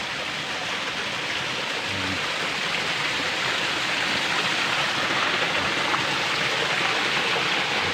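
Light drizzle falls outdoors over a planted field of string beans, a steady, even hiss of fine rain with no breaks, filling the space without voices.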